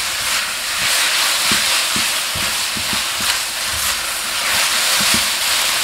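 Beef stir-frying in a wok, seasoned with salt, soy sauce, oyster sauce and pepper, gives a steady loud sizzle with repeated scraping and tossing knocks from the spatula, with no talk.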